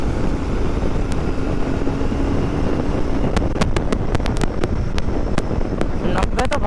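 Royal Enfield Interceptor Bear 650 motorcycle riding through traffic, with steady loud wind roar buffeting the microphone and a low engine drone beneath, plus a few sharp ticks near the end.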